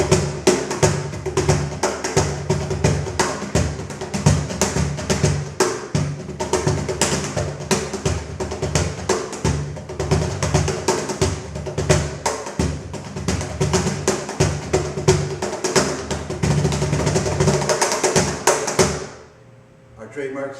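A cajon with tightened snare strainers is struck in a fast, dense rhythm, with sharp slaps and deep thumps layered over a constant buzzing rattle. The playing is loud and close and stops abruptly near the end.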